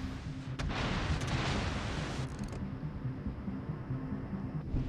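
Heavy 18-inch battleship guns of the USS Georgia fire at an Ochakov in World of Warships Legends, one deep booming salvo that rumbles and tails off, followed by lower mechanical rumble.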